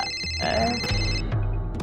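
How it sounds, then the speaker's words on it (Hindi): Phone ringtone sounding during a neighbourhood cricket game, its tonal ring in the foreground while people talk over it. "फोन फोन बजा भैया।"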